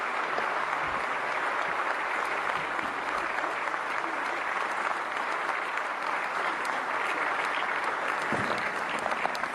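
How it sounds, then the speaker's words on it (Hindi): Sustained, dense applause from a large audience at a national film awards ceremony, welcoming the country's President; loud and steady throughout, with no speech over it. "देवियों सज्जनों, जोरदार तालियों से स्वागत करें देश की राष्ट्रपति माननीय द्रौपदी"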